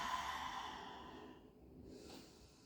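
A steady, breathy exhale during a triceps pushdown, heard close and fairly quiet, fading over a couple of seconds with a softer second breath near the end.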